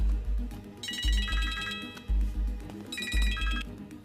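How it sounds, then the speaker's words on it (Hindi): A telephone ringtone plays a bright repeating electronic melody in two bursts over a pulsing low beat, with no speech. "अभी फोन करो राइट नाउ।"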